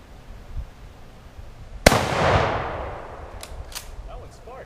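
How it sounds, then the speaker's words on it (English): A single sharp gunshot is fired outdoors at an air compressor, loud and close, followed by a long decaying hiss of escaping air and a few faint clicks. "Figured out where I'm going to shoot it too."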